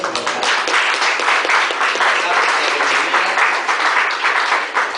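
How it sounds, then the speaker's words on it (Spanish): A church congregation applauds steadily with dense, continuous clapping at an even loudness throughout. "damos un fuerte aplauso a Evelyn"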